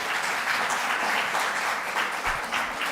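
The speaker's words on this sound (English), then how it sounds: "He deserves a round of applause." Audience at a symposium giving a round of applause to a keynote speaker, a steady, close wash of many hands clapping throughout the short stretch.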